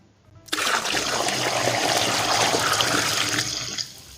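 Water starts abruptly and rushes steadily for about three seconds, a close, full gushing stream that cuts off near the end.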